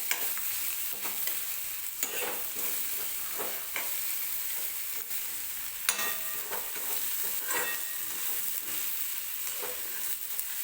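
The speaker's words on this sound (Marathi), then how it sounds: "तर 1-2 मिनिटे मी हे मसाले भाजून घेणार आहे तेलामध्ये कांदा आणि टोमॅटो सोबत" Red chilli powder and other spices fry in oil with onion and tomato for a cauliflower and potato curry, giving a steady, moderately loud sizzle with frequent spoon scrapes from continuous stirring, and no talking.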